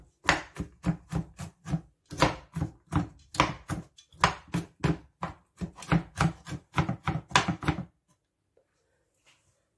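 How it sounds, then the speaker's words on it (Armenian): Walnuts are chopped with a knife on a board in quick, rhythmic bursts of crisp, close chops for about eight seconds, then the sound stops into near silence. "Մեզ անհրաժեշտ է նաև ընկույզ կտրատած, հիմա արագ կտրատեմ։"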